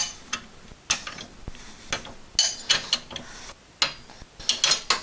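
Wrench ratcheting on a bolt of a John Deere STX38 lawn mower during a belt change, a series of close, sharp clicking bursts at an uneven rhythm, with no talking.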